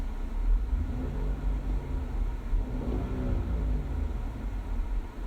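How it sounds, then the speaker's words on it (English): A car engine revving close by, a throaty low rumble that rises and falls in a couple of swells over steady idle, with no talking. "Rev my car engine."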